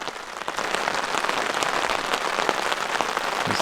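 Steady rain patters on a tarp overhead in a forest camp during a canoe trip, a dense even hiss of drops with occasional louder taps, close and continuous with no talking.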